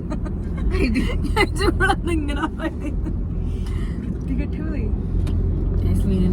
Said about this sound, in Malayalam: ഞങ്ങൾ കാറ് കയറിട്ടോ.